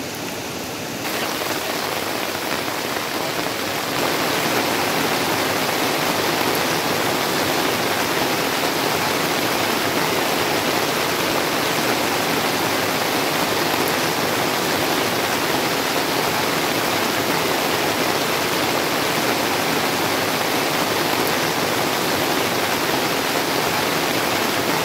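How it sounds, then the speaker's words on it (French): Heavy rain pours down in a dense, constant roar that fills the whole clip, loud and close, with no voices. "La pluie tombe au point qu'on ne s'entend plus parler"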